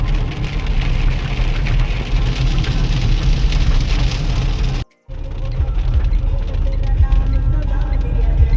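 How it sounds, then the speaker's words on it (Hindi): Heavy rain beating steadily on a moving car while travelling through the mountains toward Himachal Pradesh, a loud dense wash throughout with a brief dropout near the middle. "और बारिश देखो कितनी लगी है,"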